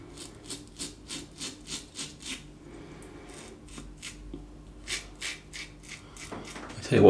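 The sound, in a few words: Yates 921-M safety razor shaving stubble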